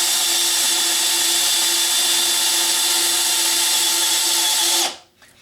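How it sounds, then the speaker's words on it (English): A Makita XPH07 brushless 18V hammer drill bores a hole into a wooden 6x6 with a loud, steady, high whine. It runs alone at close range and cuts off abruptly near the end as the depth rod stops it. "and I'll go ahead and drill a hole"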